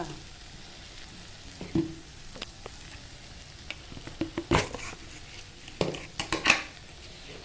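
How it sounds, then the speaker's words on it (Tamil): Vegetables sautéing in a pan for a spicy tamarind curry, a low sizzle under frequent scraping and clattering of a spoon on metal, clustered in quick bursts, close by with no voices. "காய்கறியெல்லாம் நல்லா வதக்கினதுக்கு அப்புறம் தான் லைட்டாக உப்பு போட்டுக்கோங்க"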